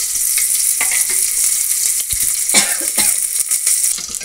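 Onion and curry leaves fry in hot oil with a steady, loud sizzle, broken by a few scrapes and stirs of the pan; no one speaks.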